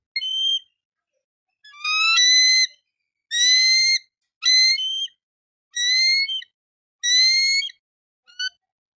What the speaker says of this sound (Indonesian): Di urutan yang kedua nih, ada burung elang.